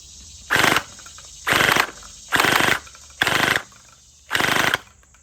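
Rapid-fire Nerf gel blaster shooting in five separate bursts, each a loud, buzzing, roughly half-second rattle of fast shots, close by, with a thin high whine lingering between bursts.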